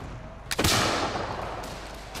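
Musket and artillery fire in a staged scene from the 1799 Battle of Zurich: a single sharp, loud blast followed by a long rolling, crackling decay, with nothing else heard.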